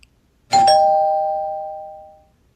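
A single bright two-tone doorbell chime rings out clearly and alone, then fades away over about two seconds.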